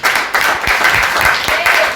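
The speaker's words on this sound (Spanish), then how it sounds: "Dale un aplauso a Dios." A church congregation claps in praise, a brief burst of dense applause at close range with a voice faintly mixed in.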